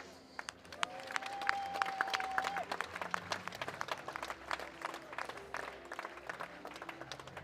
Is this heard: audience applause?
yes